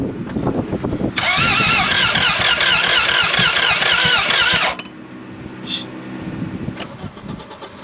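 A Toyota MR2 engine cranks at close range, the starter motor whirring in a rapid, even rhythm for several seconds without catching, then falling quiet with faint background noise after.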